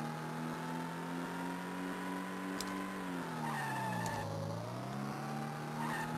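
A car in a retro Game Boy Advance racing game holds a steady, synthesized engine tone that dips and bends as a handbrake turn skids the tires, continuous and fairly quiet with no talking.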